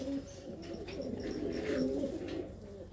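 Pigeons from the Malwa region, kept by a Punjabi pigeon fancier, give soft, repeated throaty coos close by, fairly quiet and with no talking.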